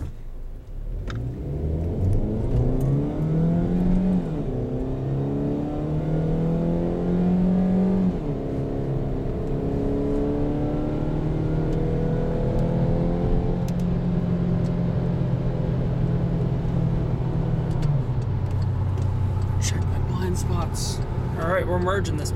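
A car accelerates hard while merging onto a freeway, its engine roaring loud and steady as the revs climb and shift through gears over about twenty seconds, with a person talking over the engine.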